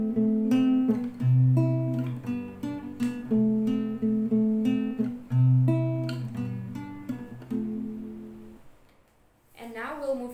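An acoustic guitar plays a repeating fingerpicked pattern of bass notes and alternating treble strings, close and clear, running for several bars before fading, then a brief strum at the end.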